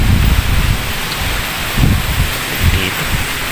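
Heavy rain pours steadily in a cemetery, a dense continuous hiss with gusty low rumbles underneath and no voices.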